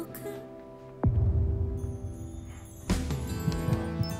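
A heartbeat sound effect in a Korean drama, two strong thumping pulses about two seconds apart set over a low hum and faint background music.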